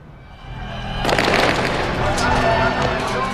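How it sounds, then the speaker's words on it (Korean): Sudden explosion and burst of gunfire from the film Mogadishu: a broad loud blast erupts after a low rumbling lead-in, then sustained dense chaotic crackle and shots continue at high level. "느닷없는 폭발과 총성을 시작으로"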